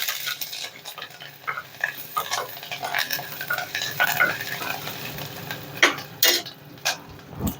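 Green chillies and curry leaves stirred in a clay pot, with sharp scraping and clinking of a utensil against the pot over a light sizzle, close and steady with occasional louder knocks.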